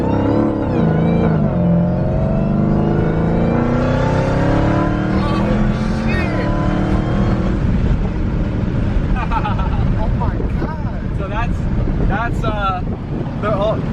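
An 800hp Dodge Hellcat engine roars under hard acceleration, its loud rising pitch climbing through the gears inside the cabin with wind noise, while occupants talk and exclaim over it.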